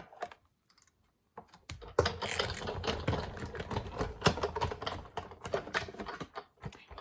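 Paper card stock cranked through a die-cutting machine, a dense, steady grinding and crunching that starts after a short near-silent pause and runs continuously for several seconds, close and fairly loud, with no talk.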